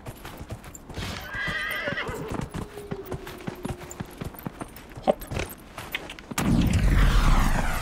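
A horse in Dragon Age Inquisition trots with quick clip-clopping hooves, lets out a clear whinny partway through, then a louder rush of game noise swells at the end.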